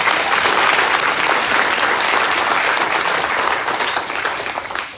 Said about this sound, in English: So again, big round of applause for student athletes.